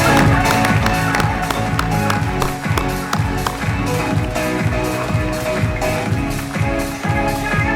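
Audience applause at an awards ceremony and oath-taking in Marseille: dense, sustained clapping from a crowd, fairly loud and steady, with music playing underneath throughout.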